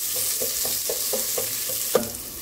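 Onions frying in hot oil with whole spices for a home-cooked salan, a steady close sizzle broken by a regular run of soft stirring strokes and one sharper scrape near the end; no one talks.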